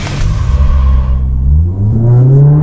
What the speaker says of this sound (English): You can actually hear the su-tu-tu-tu-tu coming from the turbo.